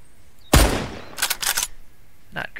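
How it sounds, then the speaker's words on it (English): A sniper rifle fires in the video game Mist Survival: one sharp, loud shot with a long decaying tail, followed by a burst of shorter cracks and a faint later report. "See how accurate this sniper rifle is."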